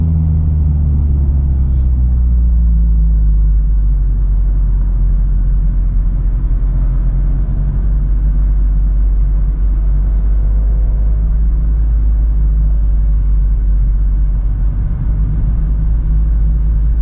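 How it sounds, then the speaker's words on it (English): A steady, deep engine rumble drones throughout, a Mazda Miata's exhaust note holding low and constant with no voices, driving through Colorado National Monument. "I hear exhaust sounds from my car that I've never heard before."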